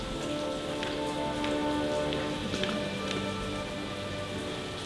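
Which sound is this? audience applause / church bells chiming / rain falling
rain falling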